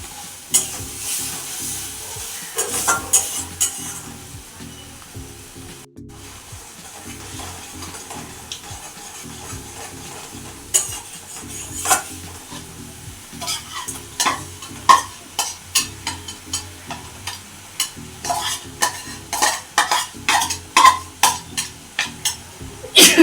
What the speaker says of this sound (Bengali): এটা খুব ভালোভাবে সাঁতলে নেবো